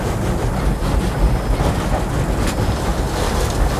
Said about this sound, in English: If you listen to the smokestack, you can tell when the power is increasing because the noise of the exhaust will increase